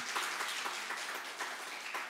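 A church congregation applauds steadily, a dense wash of many hands clapping indoors with no voices over it.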